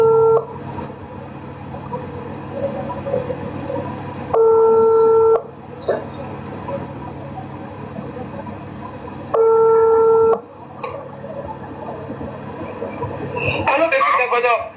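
Telephone tones on a call line repeat in steady sustained bursts, alternating with quieter gaps beneath a constant low background hum, with a brief cluster of sharper tones near the end.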